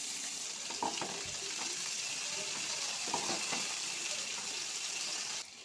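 Cauliflower, potato, carrot and beans fry in a pan for navaratna dal, giving a steady close sizzle broken by a couple of brief stirring clinks.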